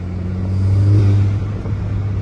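A turbocharged car engine drones loudly and steadily up close, with a low rumbling hum swelling briefly as it pulls under full load.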